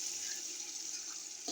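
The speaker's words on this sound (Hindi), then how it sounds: "अब मैं इसमें डालूंगी आधा गिलास पानी।" Half a glass of water pours onto sugar in a pan while syrup is started for a sweet rice dish, a steady close rush of liquid running throughout with a short clatter at the end.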